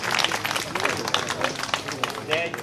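An audience at an Italian book presentation breaks into uneven applause for the author, the clapping close and busy, mixed with murmuring and voices in the room.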